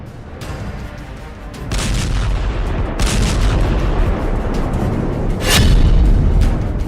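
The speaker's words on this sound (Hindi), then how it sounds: "तेल अवीव में मिसाइलों से तबाही।" Missile strikes and explosions in Tel Aviv, loud repeated blasts and sharp cracks over a heavy rumbling background, with one especially strong burst near the end.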